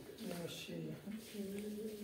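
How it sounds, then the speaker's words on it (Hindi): Pigeons cooing softly nearby as they gather to eat torn bread pieces, several low, rolling coos in quick succession. "तभी देखना डरते ही कितने कबूतर आ जाएंगे और कितने आराम से भोजन करेंगे"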